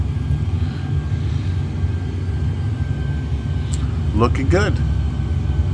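A small airplane engine drones steadily in flight at 13,000 feet near Innsbruck, a loud continuous rumble with a short voice heard over it.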